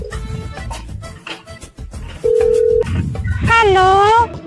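A telephone being dialed: a steady tone sounds alone for about half a second, with talk and room noise around it and a rising, wavering tonal sound following.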